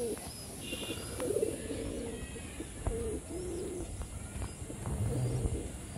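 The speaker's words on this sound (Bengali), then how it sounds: "আমাদের মুখী কবুতর জোড়া দেখুন," A pair of Mukhi pigeons coo softly and repeatedly in their loft, with low rolling calls and a few faint chirps over a quiet steady background hum.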